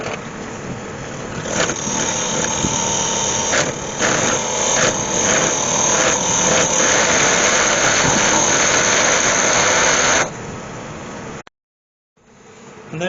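A large 70mm Forstner bit boring out the centre of a resin and root ball bowl blank on a wood lathe, a loud sustained whining grind with a squealing edge that runs steadily for about ten seconds, then stops abruptly.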